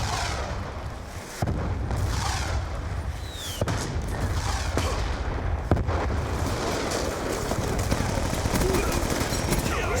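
Near-constant explosions and gunfire from the Black Ops 2 multiplayer game: dense booming blasts and bursts that run under each other through the whole stretch, with a few sharper loud hits standing out.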